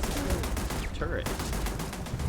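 Rapid turret gunfire in the video game Starfield, a dense continuous burst of shots that runs the whole stretch, close and loud, with a voice speaking briefly over it.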